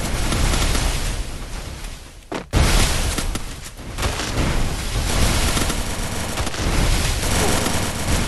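Video game gunfire plays on a phone at 40 FPS: loud, dense bursts of shots and explosions run almost continuously, broken only by a short drop near the middle.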